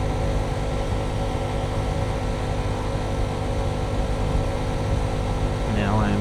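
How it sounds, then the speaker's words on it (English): Honda Trail 125 motorcycle climbing an incline at 46 mph, a steady droning engine hum buried in constant wind rush, loud and unbroken throughout with no clear rises in pitch. "The bike is doing 46 miles per hour."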